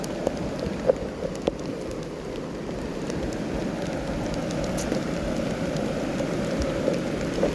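Heavy rain pours steadily, a dense low rushing hiss with scattered sharper drops striking nearby surfaces.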